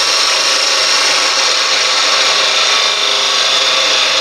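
A wood lathe turns a piece of mulberry wood while a tenon is cut, giving a loud, continuous scraping hiss that holds steady throughout with no talking.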